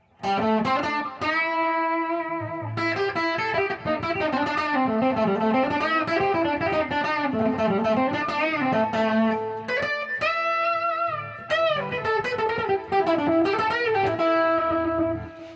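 A 2013 Gibson M111 reissue electric guitar on its humbucker pickup plays a sustained, melodic line with a warm, thick tone, loud and continuous, with only short pauses between phrases.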